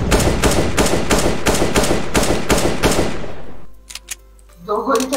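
Rapid bursts of automatic gunfire in CS:GO hammer out in a fast, even rhythm for a few seconds, then cut off, leaving faint clicks and a brief noise.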